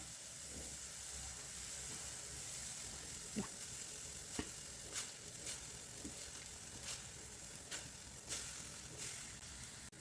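Fish curry boils in a pot after the fish is added, giving a continuous bubbling hiss with scattered sharp pops and crackles throughout.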